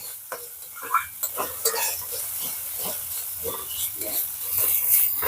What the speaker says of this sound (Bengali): এই সব একসাথে দিয়ে দেবো হালকা করে একটুখানি ভেজে নেব